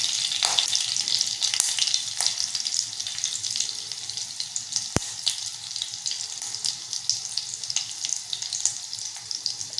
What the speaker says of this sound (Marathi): आपल्याला फोडणी छान करून घ्यायची आहे।